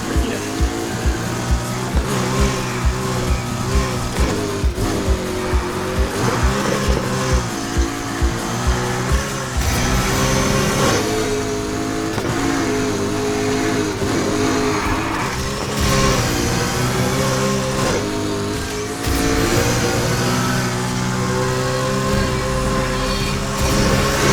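A Porsche 918 Spyder hypercar in the racing video game Need for Speed Heat, its engine roaring loud and continuous at high revs with rapid pulsing gear shifts early on and occasional tire squeal, no voices over it.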